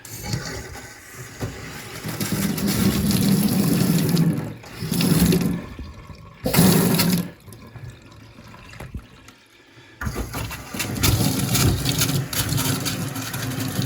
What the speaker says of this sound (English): Right, water's back on.